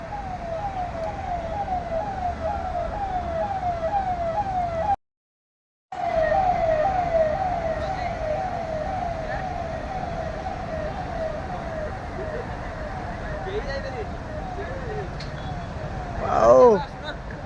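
Wailing sirens from escort vehicles in President Droupadi Murmu's convoy in Bhubaneswar, steady and sweeping over road traffic noise for most of the stretch, with a brief gap and a sharp louder burst near the end; voices are mixed in.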